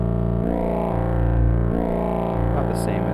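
A triangle wave fed through a TripsQuad waveshaper comes out as a squared-off synth tone, steady, loud and buzzy, sustained for the whole stretch with slight wavering and no talking.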